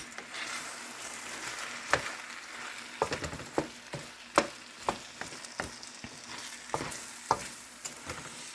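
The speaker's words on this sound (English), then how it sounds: "Let it simmer for about 5 minutes" Ramen noodle stir fry simmering on low in a pan, a steady soft sizzle with scattered sharp clicks and taps of a utensil against the pan, no voices.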